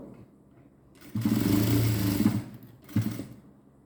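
A sewing machine stitches the seam of a 50-inch Patiala pant, running in one long steady whirring burst of about a second and a half, then a short second burst after a brief pause, close and loud with no talk.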